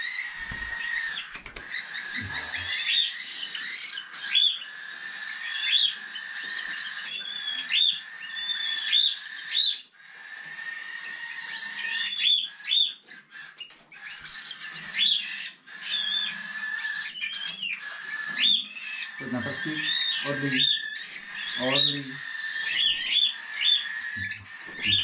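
A hungry hand-fed young cockatiel chirps and squawks almost continuously, a rapid run of shrill, insistent begging calls, close and fairly loud, with a few lower fluttering sounds and faint handling noises underneath.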